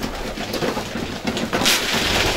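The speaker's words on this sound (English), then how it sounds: "There is a couple of pigeons here" Homing pigeons in an Irish fancier's loft coo softly and repeatedly at close range, low throaty calls over a faint background hiss.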